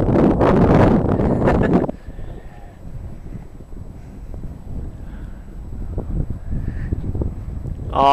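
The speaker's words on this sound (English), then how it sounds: "Pretty windy too, man." Heavy wind buffets the microphone in loud rumbling gusts at first, then settles into a lower, uneven outdoor wind noise.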